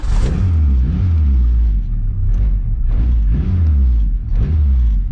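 A turbocharged Honda D16 engine idles rich just after a cold start, a loud, close, low rumble that swells and dips in slow pulses without letting up.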